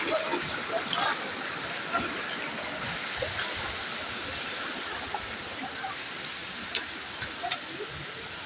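Rushing water at the Morungaba waterfall in Serra do Japi, a steady broadband splashing roar with small ticks and splatters, moderately close and continuous, with no clear talking.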